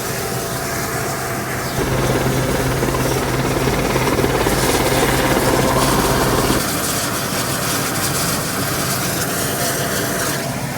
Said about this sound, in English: It's a very, very small place to land a big helicopter like this, but these guys are pros.